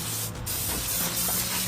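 Brake cleaner sprayed from an aerosol can onto a cross-drilled, slotted brake rotor for a 2009-2023 Dodge Challenger, a steady loud close hiss that runs continuously through the whole moment with no talking.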